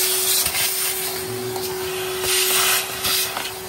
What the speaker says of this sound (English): you would use a vacuum cleaner to clean your motor